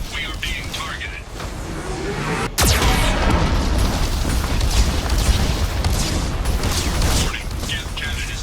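Geth cannon fire in Mass Effect 2, a sudden heavy boom followed by a sustained roaring rumble and crackling debris, with a voice speaking over it.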